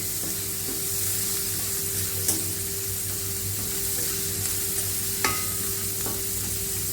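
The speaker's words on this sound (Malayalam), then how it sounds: "ഉള്ളി വഴണ്ട് വരാനായിട്ട് ഉപ്പ് ചേർക്കുന്നത് സഹായകമാകും." Onions sauté with salt in a pan for a colocasia roast, giving a soft steady sizzle with a low hum beneath and occasional light clinks of a spoon, faint and without talk.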